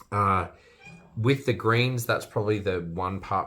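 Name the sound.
cat meowing in the background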